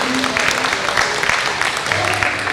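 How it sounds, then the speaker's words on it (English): Steady, dense applause from a crowd fills the whole stretch, with faint voices beneath it. "So give them a nice round of applause"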